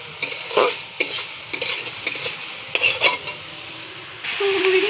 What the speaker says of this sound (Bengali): সবজিটাকে ভালো করে ভাজা করে নেব।